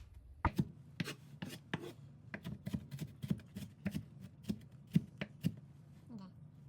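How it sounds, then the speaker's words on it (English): A knife rock-chopping food on a cutting board, a series of crisp, close knocks in an uneven rhythm, about twenty sharp taps with brief pauses between them. "See how I'm rocking the knife down?"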